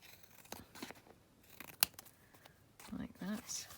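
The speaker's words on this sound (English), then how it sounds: "I'm just going to trim around the edge here." Scissors trim around the edge of paper with light, scattered snips close up, one sharper cut standing out, while a person speaks softly over part of it.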